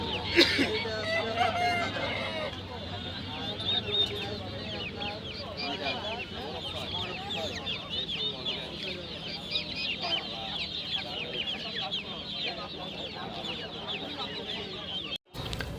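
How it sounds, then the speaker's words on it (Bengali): Silkie chickens cluck steadily at a busy poultry market, with a rooster crowing among them and many birds calling at once over a constant crowd murmur and voices. "সিল্কি মুরগি"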